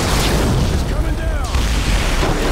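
An explosion in the video game Call of Duty: Modern Warfare 3 booms as a loud, sustained rumbling blast that fills the whole stretch, with someone talking over it.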